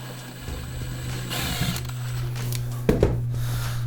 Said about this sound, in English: I'm going to take the final screw out